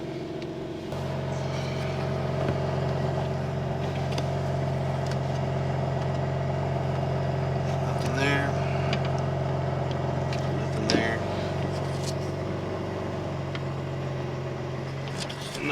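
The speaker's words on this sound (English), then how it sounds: "start the car, let it run for a little bit" A BMW M4 Competition G82 with the S58 engine idles steadily, a low even hum heard up close with no revving, while someone speaks intermittently over it.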